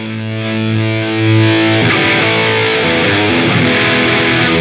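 Electric guitar played through the distortion on a Line 6 HX Stomp Helix, a loud, thick sustained chord that shifts to a new chord partway through, ringing alone with no talking.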